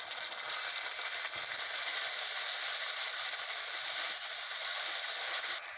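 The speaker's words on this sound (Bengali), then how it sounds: "আদা রসুন বাটা দিয়ে দেবো।" Ginger-garlic paste hits lightly browned onions and cumin in a hot wok while cooking vegetable khichuri, producing a steady, close, hissing sizzle throughout.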